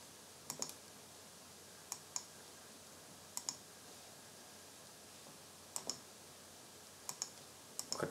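Sharp computer mouse clicks while installing security software, coming in small paired bursts spread across a quiet room background, faint and close with no talking.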